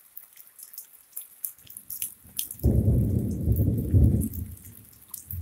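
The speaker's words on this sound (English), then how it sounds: "So we got some thunder in Leilani Estates." Thunder rolls over rain in Leilani Estates, a deep rumble that swells for a couple of seconds over steady rainfall and scattered drips.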